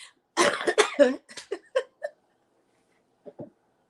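A close, harsh fit of coughing, several rapid hacking bursts that trail off into a few weaker coughs, then silence and two last faint ones.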